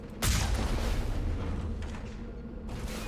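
A vehicle-mounted cannon in the video game Mass Effect fires a single heavy booming shot that rolls out into a long rumbling decay, with game background noise continuing afterward.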